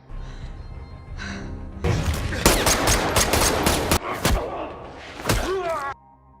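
Rapid bursts of gunfire crack back and forth, loud and close, with several sharp shots and volleys over a couple of seconds.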